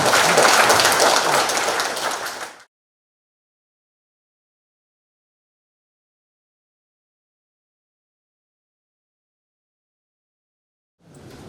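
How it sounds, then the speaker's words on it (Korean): Audience applause at a ceremony marking Bamboo Salt Day in Hamyang County: a dense burst of clapping for about two and a half seconds, then silence, with a faint return near the end. "박수 부탁드리겠습니다"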